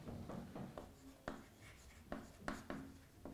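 Chalk or marker writing on a classroom board during a chemistry lecture, a series of short scratchy strokes and taps in an uneven rhythm, faint and somewhat distant, with no voice over them.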